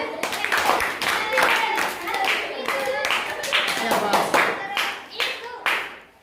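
A group of children claps together in a steady burst of applause, sharp hand claps repeating briskly for several seconds, fading toward the end.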